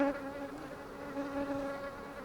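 Honey bees droning at an opened hive after two colonies were united, a dense close buzz with a steady hum that wavers slightly in pitch, with no voices.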